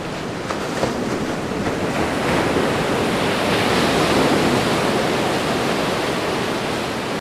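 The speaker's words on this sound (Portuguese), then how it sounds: "As ondas do mar quebravam incessantemente contra o cais miserável" Ocean waves break incessantly against a pier in winter, heard as a loud, continuous rushing wash of surf that swells slightly midway, with no voices.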